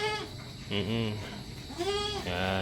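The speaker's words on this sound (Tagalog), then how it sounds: "Yan po sila mga kambing natin mga kabukals." Goats on a farm bleat several times, loud and close, with overlapping calls, and a person speaks briefly between them.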